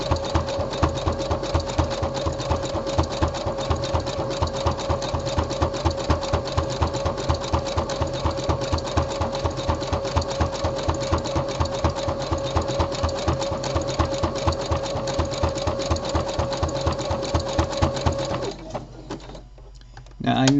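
A sewing machine runs steadily for about eighteen seconds, its rapid even needle rhythm sewing a decorative top stitch along a seam on stretchy sportswear, then stops abruptly; someone speaks over the stitching.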